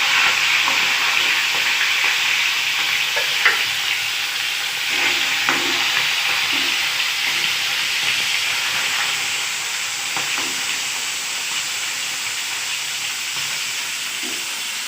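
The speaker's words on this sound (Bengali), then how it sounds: "চিংড়ি মাছ 4টে ভাজবো এবার।" Four prawns fry in hot mustard oil in a kadai, a loud, continuous close sizzle and hiss with a few light clicks and scrapes, easing slightly toward the end.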